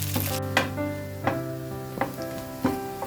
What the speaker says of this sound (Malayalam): അതിലോട്ട് നമ്മൾ കൊച്ചുള്ളിയും കരിയാപ്പിലയും ഇട്ട് കൊടുത്തിരിക്കുകയാണ്.